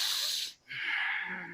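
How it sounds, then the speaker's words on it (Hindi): Long, deep breaths drawn loudly through the nose, two strong hissing airflows close to the microphone separated by a brief pause, with no talking. "इसलिए लंबी गहरी श्वास है नासिका के द्वारा"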